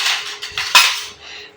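Spoon and dishes clattering in a home kitchen while sweet rice pudding is made, a quick run of light clinks and knocks with one sharp ringing strike near the middle, close and unaccompanied.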